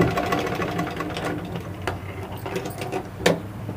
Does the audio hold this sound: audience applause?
no